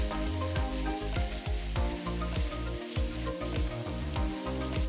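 Sliced onions, browned to golden with ginger garlic paste added, sizzle and crackle steadily in a kadai, a dense, continuous frying hiss with no talking.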